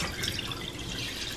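Water running and splashing as rice is rinsed in a kitchen, with the starchy rinse water kept for kimchi stew; a brief, close, continuous trickle with no talk.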